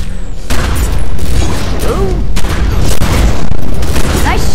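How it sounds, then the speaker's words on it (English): Game gunfire from The Secret World: dense, loud bursts of shots and booms through the whole stretch, with a voice briefly audible among them. "Let's shoot it in the face!"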